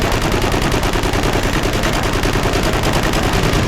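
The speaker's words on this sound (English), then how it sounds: "I would have missed out on machine gunning these sons of guns" Sustained automatic machine gun fire in the Eternal Crusade shooter game, a loud, rapid, evenly spaced stream of shots with no pause.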